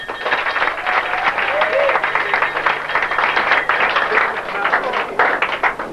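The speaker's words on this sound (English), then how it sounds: "So let's give an applause to the father of the bride." Wedding guests at an afternoon reception applaud the father of the bride, a steady, full round of clapping from a roomful of people that carries on for several seconds with a few voices mixed in.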